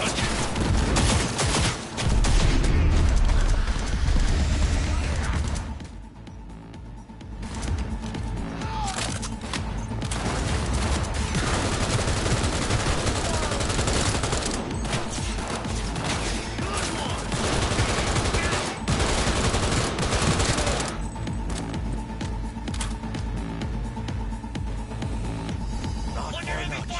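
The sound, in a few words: heavy gunfire from a video game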